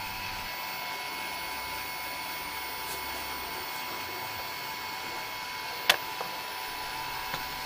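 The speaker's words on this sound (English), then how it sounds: "Once it arms, all motors start rotating." Hexacopter drone with an APM2.8 flight controller, its six motors spinning without propellers after arming, a faint steady whine and hum with a few small clicks near the end.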